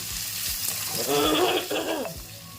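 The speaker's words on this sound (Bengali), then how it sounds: "এটা পেঁয়াজ আর টমেটো দিয়ে কষিয়ে নিচ্ছি" Onions, later joined by tomatoes, sizzle gently in a pan in a home kitchen for a chicken dinner, a soft steady frying hiss with a few faint clinks and murmurs behind it.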